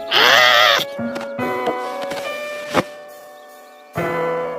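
Sheep bleat in a cartoon-like farm scene, a loud wavering bleat followed by softer tonal calls and a light knock, then another bleat at the end.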